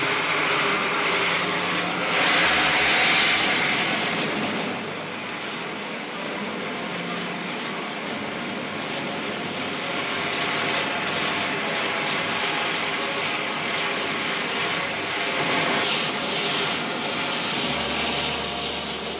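A sci-fi rocket ship roars through takeoff in a 1953 serial, a loud continuous engine rumble and rush that swells early and holds steady without speech.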